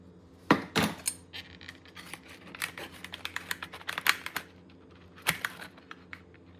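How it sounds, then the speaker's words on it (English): A knife cutting through a slice of chilled no-bake pie down to the crust, with sharp clicks and taps of the blade against the plate, a cluster of quick scraping cuts in the middle, all close and with no talk. "So it is time to cut a slice."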